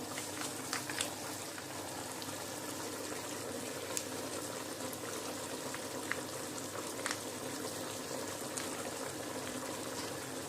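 Mutton frying in a pot for pulao makes a continuous soft sizzle and bubbling, with faint occasional clicks of stirring throughout.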